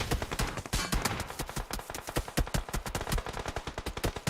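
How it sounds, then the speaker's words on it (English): Rapid bursts of gunfire crackle through a competitive shooter video game match, dense, loud and near, with sharp repeated shots stacked in quick rhythmic volleys and no voices. "the bullets are getting thrown to his direction"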